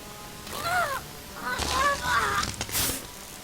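A character's voice in Star Wars: The Old Republic imitates a bird call with two short bursts of high, chirpy vocal sounds, clear and close.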